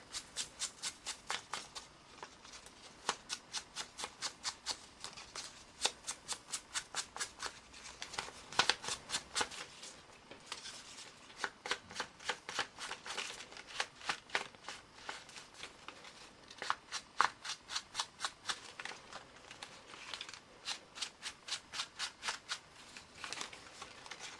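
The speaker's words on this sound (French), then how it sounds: "je vais colorer les bords de ma rose, comme ceci" The edges of a paper rose are being coloured by hand, producing rapid, rhythmic scratchy strokes in repeated bursts with short pauses between them. The sound is close and moderately loud.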